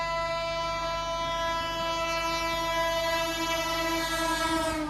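An Indian Rajdhani express train passes close and loud, its horn blaring in one steady, sustained tone for the whole stretch over the rumble of the rail cars.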